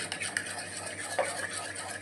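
Tomato ketchup and mayonnaise being stirred together into a sauce for a veg mayo sandwich, a soft continuous scraping and squelching of spoon against bowl with light clicks, close and steady, with faint background hum.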